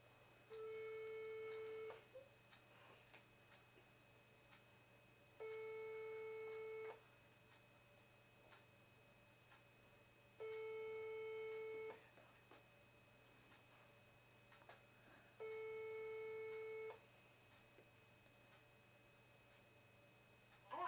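A telephone call rings out in four evenly spaced long tones, each lasting about a second and a half with pauses between, faint and steady over a low background hum.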